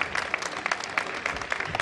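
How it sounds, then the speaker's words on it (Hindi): Brief burst of audience applause for a synthesizer player at a company employee talent show, dense clapping heard for a couple of seconds. "एक बार घनसाजी सर के लिए भी जोरदार तालियां हो जाए"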